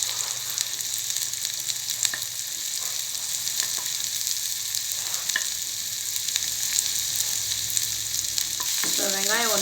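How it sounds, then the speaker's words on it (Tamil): Chopped onions fry in hot oil with cinnamon and cloves for mushroom sukka, giving a continuous close sizzle with occasional stirring scrapes and no voices. "இப்போ வந்து வெங்காயத்தை ஆட் பண்ணிக்கலாம்."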